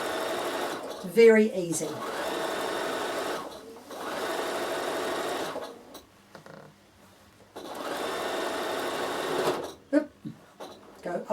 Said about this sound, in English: And now I'm just going to edge stitch all the way around here.